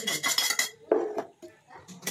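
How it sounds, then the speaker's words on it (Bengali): Egg curry poured from a cooking pot into a bowl, with close clinks and scrapes of metal utensils and cookware in short bursts. "এরপর একটা গামলার মধ্যে তরকারিটা ঢেলে নেব"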